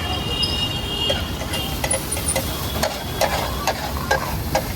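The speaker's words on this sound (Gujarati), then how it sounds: "બધા વેજીટેબલ્સ ફ્રાય થશે હવે" Vegetables with green garlic, cumin and a ground peanut and sesame mix fry in a pan, a steady close sizzle with scattered clinks of stirring.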